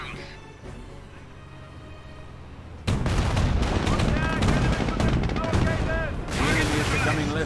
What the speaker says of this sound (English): Preparing incendiary rounds.